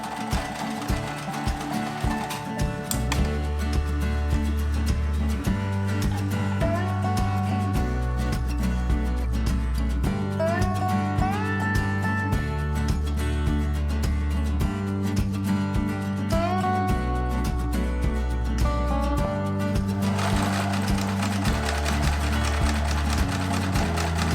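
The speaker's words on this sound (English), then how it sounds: "I did just sew horizontally to keep everything in place" A sewing machine stitches tape onto fabric letters for a happy birthday banner, its motor running in steady bursts that start and stop, with strong music playing over it throughout.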